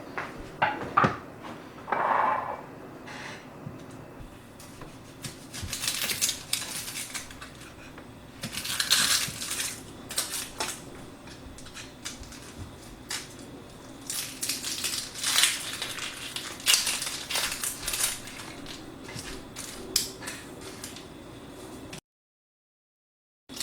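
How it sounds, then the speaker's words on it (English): A knife chops an onion on a cutting board in scattered bursts of crisp, close taps, with brief pauses between runs and quiet kitchen background. "So I'm going to chop up the onion."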